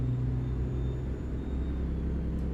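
Steady low diesel drone of a Detroit 60 series truck engine in American Truck Simulator, a continuous rumble heard alone from an external view without speech.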